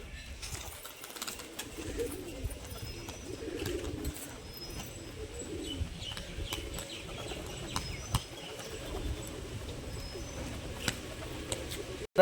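Male and female pigeons coo in low, soft, overlapping calls at close range, with occasional brief wing flaps and rustling against a quiet background, and no one speaking.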